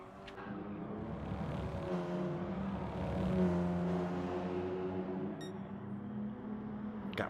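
Ford Focus Cup race cars circling Tsukuba Circuit, a sustained engine roar that swells as cars pass and eases under braking, heard from a moderate distance without talk.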